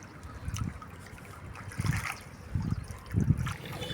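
Water poured over someone's hands for washing, outdoors on a pilgrimage in India: a few low, splashing gushes come in uneven bursts, close by, with no talk.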